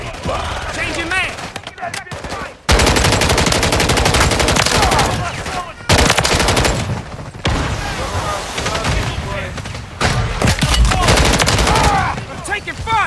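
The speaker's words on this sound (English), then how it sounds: "I'm taking fire." Sustained heavy gunfire from Fallout-style shooter MW3 zombies mode, dense loud automatic bursts in long stretches broken by brief gaps, with voices talking over the battle.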